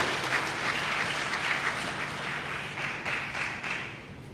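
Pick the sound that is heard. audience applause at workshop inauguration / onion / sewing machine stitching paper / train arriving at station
audience applause at workshop inauguration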